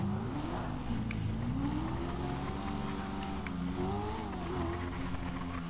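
A car engine revs and drones in GTA 5 Online, with pitch rising and falling in long sweeps over steady game noise and a few short clicks.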